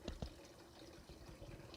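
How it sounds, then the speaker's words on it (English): A garden water fountain trickles softly and steadily in a quiet backyard on a calm, cloudy day, faint and continuous with no voices. "the sound of that water fountain right there is very, very soothing"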